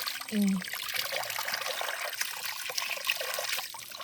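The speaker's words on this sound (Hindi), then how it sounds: "ये पता नहीं ये पानी कहाँ से आ रहा है, ऊपर से आ रहा है शायद" Cold water trickles down from higher ground along a mountain roadside. It makes a faint, steady dribbling wash, alone apart from one brief low hum near the start.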